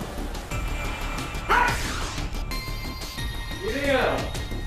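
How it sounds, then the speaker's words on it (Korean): A dog barks aggressively at a man indoors in two loud, sharp bursts about two seconds apart, with speech and movement noise around them. "갑자기 남자 보호자에게 짖기 시작하는"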